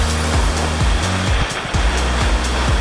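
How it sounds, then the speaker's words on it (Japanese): Ocean waves washing onto a beach toward a small offshore islet at high spring tide, a loud, continuous rushing surf close by with no voices. "この波の感じいいね。"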